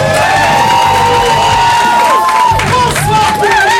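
A loud crowd at an improv show cheers, whoops and applauds continuously, a dense roar of voices and clapping with shouts rising above it.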